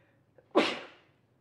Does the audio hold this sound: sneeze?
yes